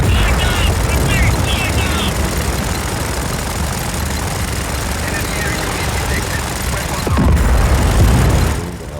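Helicopters in the video game Just Cause 4 create a constant loud rotor and engine rumble that fills the whole stretch. A heavier low boom rises near the end.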